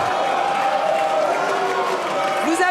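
Deputies applauding in the French National Assembly chamber: sustained clapping and murmuring from many people spread across a large hall, with a voice rising over the noise near the end.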